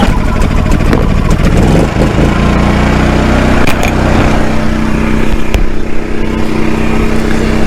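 A 4-cycle generator engine running loud and close after starting on its second pull rope pull on choke, a steady rough idle with a few sharp clicks and knocks over the drone.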